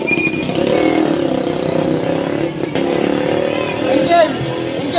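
A motorcycle engine running steadily nearby at an outdoor anniversary gathering, a continuous rumble with a slight rev toward the end, voices faintly under it.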